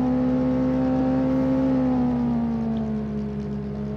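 Tractor engine in Farming Simulator 17 running steadily with a strong droning hum, loud and continuous, pitch sagging slightly toward the end as it settles, no talk over it.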